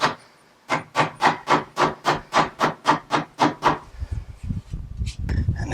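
Twelve evenly spaced hammer blows seating a running board end cap on a Ram 1500 pickup, sharp and close in a steady rhythm, followed by softer handling noise and some breathing.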